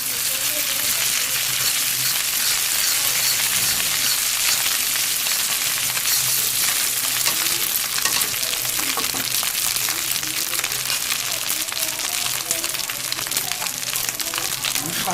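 Ginger paste sizzles and crackles in a pan of mutton curry, a continuous loud frying hiss with scattered pops and stirring clinks throughout.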